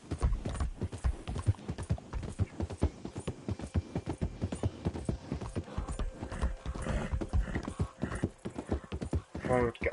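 Rhythmic clip-clop of an Arabian horse's hooves trots steadily along in Red Dead Redemption 2, with an occasional horse whinny and a voice talking over it.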